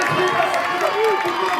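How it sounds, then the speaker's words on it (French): Spectators cheer and applaud at the sprint finish of the 31st Forestière race, a continuous crowd roar with a voice calling over it, short and fairly loud. "on applaudit."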